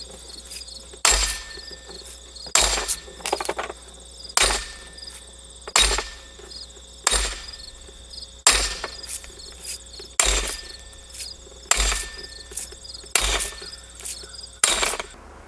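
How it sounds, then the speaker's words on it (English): Sidewall posts are pounded into the ground with repeated sharp metallic blows about every one and a half seconds, ten loud strikes each followed by a short ringing decay, with insects chirping steadily underneath. "So now I'm ready to pound in the remaining sidewall posts."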